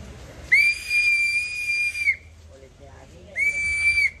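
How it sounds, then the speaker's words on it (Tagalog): A toy whistle, one of the trick-or-treat giveaways, blown in two shrill, steady blasts: a long one of about a second and a half, then a shorter one after a brief pause, close and loud. "So, tatry natin tong sipol kung gumagana."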